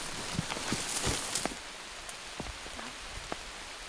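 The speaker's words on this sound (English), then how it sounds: "it's pouring rain again" Heavy rain falls steadily in the Maine north woods as a soft, dense hiss, with scattered louder drops tapping close by on nearby surfaces.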